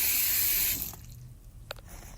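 Cranberries being washed under running tap water in a sink, a steady close rush of water that cuts out partway, leaving a quieter background with a few brief splashes and clinks.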